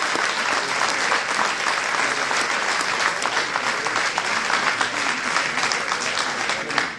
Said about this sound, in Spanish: Y un aplauso para nosotros mismos porque hemos tenido la constancia de venir acá.